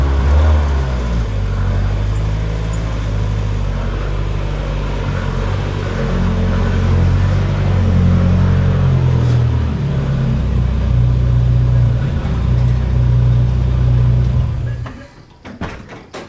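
A car engine rumbling steadily and close as the car is driven into a garage, a low, loud drone lasting around fifteen seconds before cutting off, followed by a few sharp clicks.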